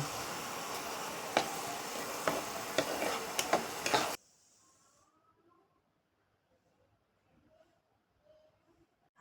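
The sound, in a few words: tomato paste and mustard masala being sautéed in a pan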